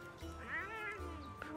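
A Palico cat companion in Monster Hunter: World gives a short, rising-and-falling meow with a second fainter mew, close and clear over low game background hum.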